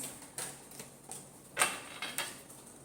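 A deck of tarot cards is shuffled in a quick series of soft, crisp riffling taps, close and fairly quiet, with no talking.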